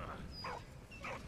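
Dog barks in the video game Valiant Hearts, two short yelps about half a second apart, moderately loud against a steady background of game ambience.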